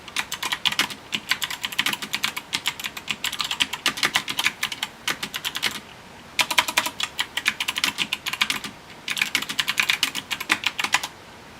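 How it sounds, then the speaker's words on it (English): Quick, bright clicks of typing on a computer keyboard, close and steady, run for several seconds at a time, broken by brief pauses. No speech. "I'm going to type a message down here."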